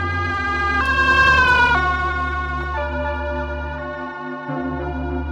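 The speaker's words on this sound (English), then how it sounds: "like when an ambulance siren changes pitch as it speeds past you" An ambulance siren wails loud and close, its tone stepping and shifting in pitch as it speeds past, alone with no talking over it.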